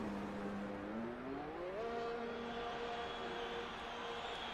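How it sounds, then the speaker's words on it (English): An F1 car engine in the F1 2020 racing game whines faintly and steadily, its pitch rising smoothly then holding, heard alone without talk. "We can actually hear one of the car's engines whining."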